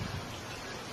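Steady rain pours in the Philippines, a dense continuous hiss of drops on surfaces, close and even, with no voices.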